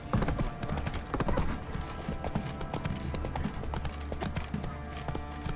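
Hooves of the horse in The Witcher 3 clop in a quick, steady trotting rhythm, close and clear over a low game ambience.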